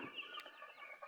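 Chickens on a poultry farm clucking and calling, several close birds with short overlapping clucks in a continuous chatter.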